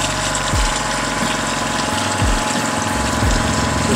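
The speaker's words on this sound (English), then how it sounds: "they fired up the generator. They have a pump in the big tank. They're going to fill up the pipe with water" Generator-driven pump in a big tank filling a municipal water distribution pipe ending at a hydrant, a steady loud hum with rushing water throughout and a few low engine swoops.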